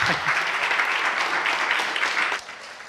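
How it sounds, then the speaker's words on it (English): Audience giving a round of applause at the close of an evening Bible study session, sustained dense clapping from a room of people that holds steady, then thins and fades near the end. "Can we give Miles a round of applause?"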